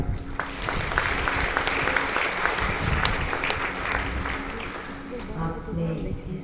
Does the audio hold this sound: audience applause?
yes